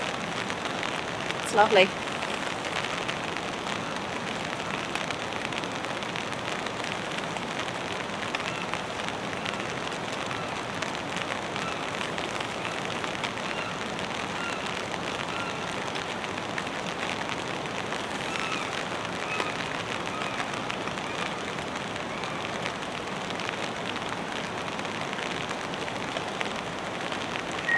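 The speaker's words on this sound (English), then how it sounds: "Just as it was forecast, it's drizzly and moody." Light drizzly rain patters steadily around a camp in the New Zealand mountains, a soft continuous hiss with a brief knock near the start and a person speaking briefly over it.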